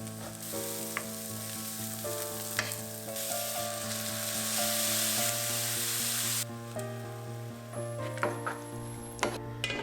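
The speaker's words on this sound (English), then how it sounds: "in the same pan, I'm gonna saute the onions" Onions sauté steadily in a pan with a continuous close sizzle and occasional stirring clinks, and a tonal hum runs underneath throughout, with no speech.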